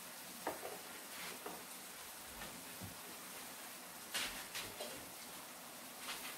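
Ackee and saltfish simmering in a pan, a faint, steady sizzle with soft bubbling and occasional light ticks and clinks, no voices.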